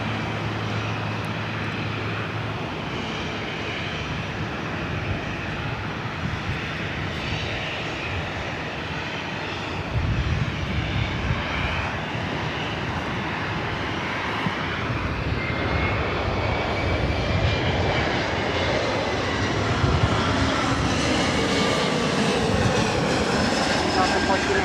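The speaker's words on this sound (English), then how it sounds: "Next arrival is Delta Connection, SkyWest Flight 4099, coming in from Reno." A Delta Connection SkyWest Embraer E175 arriving at LAX from Reno, heard as a continuous broad jet roar that builds gradually and stays loud and close throughout.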